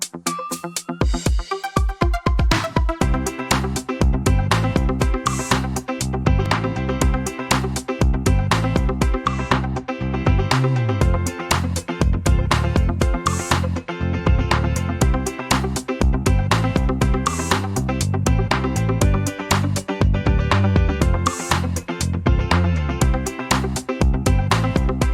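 Edited and mixed commercial-style background music led by guitar, a steady rhythmic groove with bass and percussion running continuously at full level, purely instrumental and without talk.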